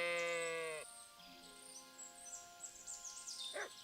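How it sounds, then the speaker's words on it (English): A lost ram bleats loudly in the medieval game Kingdom Come Deliverance 2, one long wavering call up close, followed by quieter ambient birdsong and a brief second sheep sound. "This must be the lost ram. Greetings, sheep."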